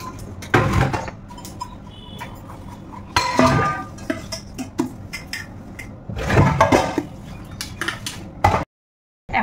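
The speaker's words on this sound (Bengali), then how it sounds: "এখন এই যে খাবারের বাসন কটা ধোবো।" Dishes, pots and cutlery being washed after a meal: clattering bursts of metal and ceramic knocking together come in several separate clusters, close and fairly loud, with running water between them.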